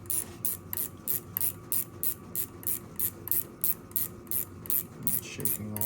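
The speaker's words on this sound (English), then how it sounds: "we'll tighten it down" A ratchet wrench tightening a bolt on the engine of a turbocharged F-body Camaro, with a steady run of about fourteen close, crisp clicking strokes in an even back-and-forth rhythm.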